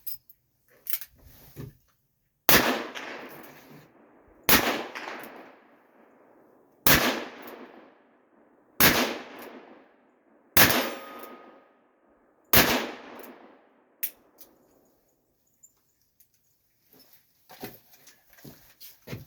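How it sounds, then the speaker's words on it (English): A gun fires seven sharp, loud, single shots spaced about two seconds apart, each with a decaying echo, followed by faint rustling and clicks; no voices. "Let's shoot this one."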